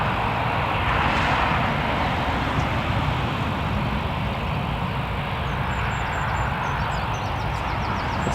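A KLM airliner at Newcastle Airport gives a steady, broad engine roar that holds at an even loudness throughout, with no talk over it.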